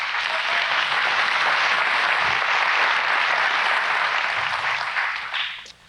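An audience claps steadily and loudly for several seconds, a dense wash of hand claps that tapers off at the very end.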